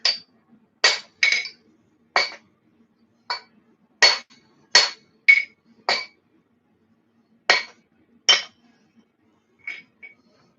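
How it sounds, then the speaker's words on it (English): Hammer blows ring out on hot metal while a bow-tie hammer is forged, its thick cheek being drawn down: about a dozen sharp, bright metallic strikes in irregular bursts, some single and some paired, with quiet gaps between. "we need to make sure we're hammering it down more"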